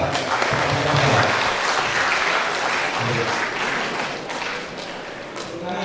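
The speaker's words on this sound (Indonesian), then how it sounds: "Tepuk tangan untuk Pak Profesor" Seminar audience applauding a professor, a dense, steady wash of clapping from many hands that carries through the whole stretch and tapers slightly at the end, with faint voices mixed underneath.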